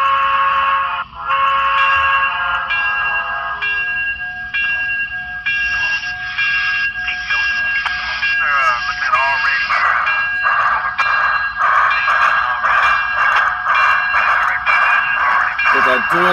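A Broadway Limited model train locomotive's sound system starts up with a loud, steady electronic hum and whistle-like tones, then rhythmic dual-cylinder chuffing builds in repeated bursts, continuous and close throughout.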